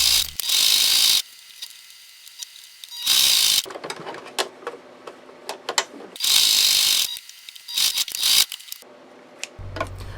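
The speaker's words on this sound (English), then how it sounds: "or you could just do it on the machine like I am doing" A sewing machine stitches around the edge of a fabric potholder in bursts of rapid mechanical clatter, stopping and starting several times, with quiet pauses between runs.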